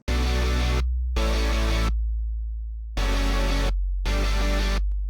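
Sustained synth chords in four long blocks separated by short gaps, over a deep, steady 808-style sub bass that keeps ringing through the pauses.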